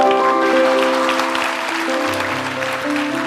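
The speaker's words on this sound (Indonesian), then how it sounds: "Kasih tepuk tangan untuk Tuhan Yesus." A church congregation applauds during a sermon, a steady wash of many hands clapping at moderate loudness with sustained music tones running underneath.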